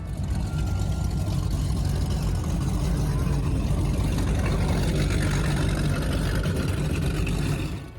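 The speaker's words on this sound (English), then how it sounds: "Let's listen into these triple EFIs." Triple EFI outboard engines on a 21-year-old 43-foot Scarab V-bottom powerboat at a winter poker run roar loud and close, a continuous heavy drone with a low rumble that holds steady before easing off at the end.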